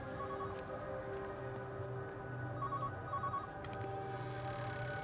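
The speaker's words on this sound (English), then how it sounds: "There's a phone ringing in this house." A telephone rings steadily inside a house in Everybody's Gone to the Rapture, a repeated electronic bell-like trill heard faintly over a low ambient hum, with no one speaking.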